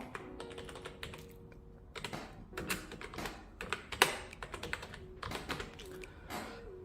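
Quick, uneven key taps on a keyboard, close and fairly quiet. Clustered bursts of clicks with short pauses between them, as when typing a search term.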